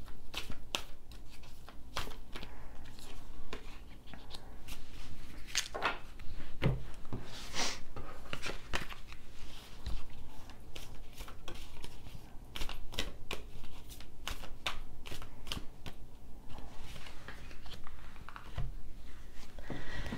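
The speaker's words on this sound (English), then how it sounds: "I'm going to get one card from each of these decks first before I turn over what the card is" Cards being drawn one at a time from several decks for a reading, a long run of crisp slaps, flicks and shuffling clicks close by at an irregular pace, with no talking.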